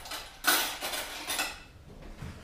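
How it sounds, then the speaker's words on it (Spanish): Soy sauce mixture whisked in a bowl to emulsify it: a few brisk bursts of clinking metal scraping against the dish, fairly quiet and close, with a short pause before softer taps. "Esto lo batimos un poco para emulsionarlo"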